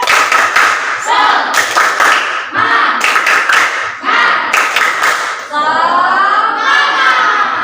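Fifth-grade schoolchildren in a classroom perform the tepuk semangat chant: loud, rhythmic groups of claps and taps punctuating their shouted chanting voices.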